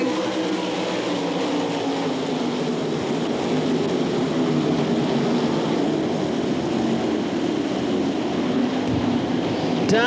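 A pack of World of Outlaws sprint cars races at Knoxville Raceway in Iowa, producing a dense, continuous, loud engine roar that holds steady as the field runs at speed.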